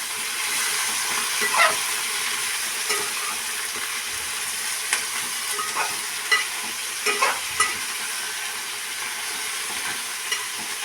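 Brinjal pieces fry in hot oil in a pan for pickle, a steady sizzle with occasional scraping stir strokes and soft clinks, fairly close and without any talk.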